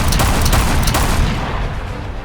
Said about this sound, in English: 4 ships started firing at Monarch at once, causing enormous damage to the bow of the ship